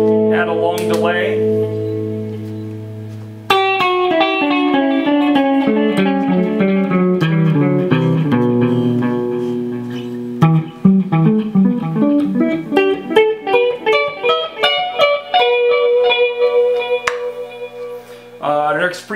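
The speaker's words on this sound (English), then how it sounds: "Add a long delay." An electric guitar runs through an Axe-FX II with a long delay effect. Picked notes and chords ring out, each trailed by repeating echoes that stack and fade, with a steady stream of plucks in the second half.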